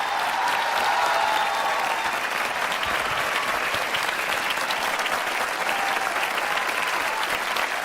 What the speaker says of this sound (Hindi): तालियां बजाकर इस्तकबाल करें।